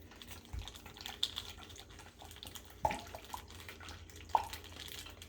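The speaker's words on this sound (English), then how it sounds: "We're going to pour it in up to the 100 milliliter mark." Water is poured into a beaker up to the 100 ml mark for a chemistry kit experiment, a close, low trickle and splash with a few sharper drips and glassy knocks.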